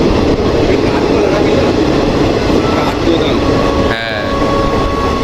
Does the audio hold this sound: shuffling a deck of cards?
no